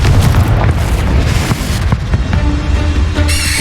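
Confringo blasting spell in Hogwarts Legacy, a loud booming explosion with a heavy low rumble and crackling burst that fades into a brief bright shimmer, close and alone.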